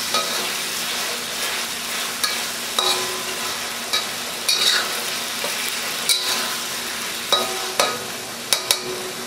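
Chicken browning in a wok with a steady, broadband sizzle, punctuated by sharp metallic clinks and scrapes of a utensil stirring against the pan at irregular intervals, with no voices.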